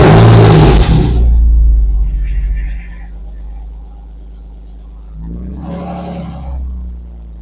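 A Porsche 986 engine cranks and fires with a loud, close roar, settles into a lower idling rumble, then surges briefly again.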